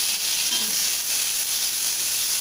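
Drumstick leaves and black pepper fry in hot ghee with a steady, bright sizzling hiss that stays close and constant, and no one speaks.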